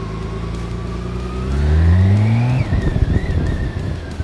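A BMW K1600 Bagger police motorcycle engine revs up from a steady idle, climbs in pitch, then drops back to a rough, throbbing idle. It is loud and close, with no talk.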